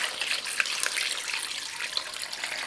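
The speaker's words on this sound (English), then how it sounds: "we're going to add some water" Water pours from a tap into a pot of hog maws, a steady splashing hiss with small bubbling spikes and no voices.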